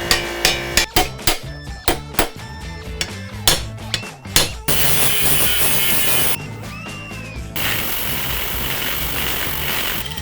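Metal parts on an old-school custom minibike frame being worked, first with a run of sharp, evenly spaced hammer-like strikes, then a loud, sustained grinder whine cutting through welded metal, pausing briefly before resuming.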